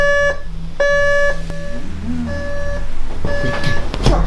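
An alarm clock beeps loudly in repeated bursts of a steady electronic tone, with a person shouting and clattering noise around it.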